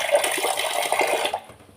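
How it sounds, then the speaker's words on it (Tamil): Water pours steadily into a cooking pot of mango kulambu, a loud close gurgling stream that tapers off near the end. "இப்போ நான் மிக்ஸி ஜார் கழுவி வச்ச தண்ணியை ஊற்றிடுறேன்"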